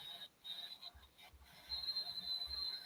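During an NFL game broadcast, a referee's thin, steady whistle rings out faintly in two stretches under crowd noise and a commentator's talk.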